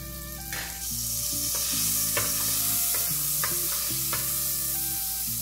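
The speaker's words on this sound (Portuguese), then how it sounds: "Aqui eu vou colocar um fio de azeite, uma colher de manteiga," Olive oil and a spoonful of butter sizzle and crackle steadily in a pan, with a persistent hiss, intermittent utensil clinks and a low hum from the stove.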